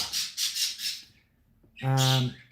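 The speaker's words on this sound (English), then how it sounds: "I am just going to go and turn the light off next to the birds because they're going crazy." Pet birds squawking and chirping indoors, a run of rapid bright calls followed after a pause by one harsh, loud squawk, with no talk over them.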